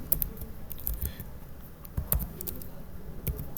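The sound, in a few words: typing on a computer keyboard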